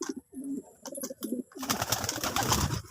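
Pet pigeons coo in a short series of soft, low calls, close by and clear. A burst of louder fluttering and scuffling follows, likely the birds moving around as they are fed.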